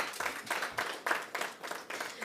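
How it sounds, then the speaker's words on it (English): Audience at a press conference breaks into applause, a brief burst of fairly quiet, even clapping in steady pulses from a modest crowd. "let's give her a round of applause"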